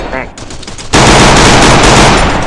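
Gunfire from the mobile shooter Free Fire starts abruptly as a loud, dense machine-gun burst that keeps going without pause, after a brief moment of game sounds.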